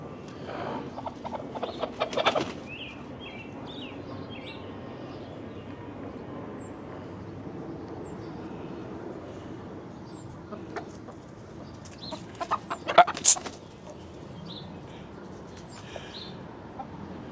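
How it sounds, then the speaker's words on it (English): Aggressive backyard chickens in a garden cluck on and off at low to moderate level, with louder squawking bursts near the start and again about two thirds through, plus a few thin chirps in between. "the pecking order is crazy with these chickens, man. They're just aggressive"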